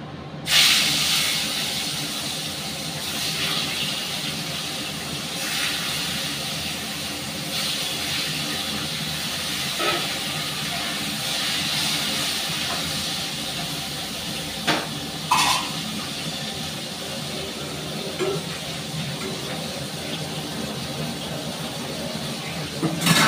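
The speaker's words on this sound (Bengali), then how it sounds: "এবার কাতলা মাছগুলো ভাজবো" Katla fish fry in hot mustard oil in a home kitchen, a steady broad hiss of sizzling running throughout with a few brief clicks and spatters, moderately loud and close.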